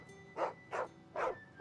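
A dog barks four times in Final Fantasy XVI, with sharp, evenly spaced barks up close over quiet game ambience.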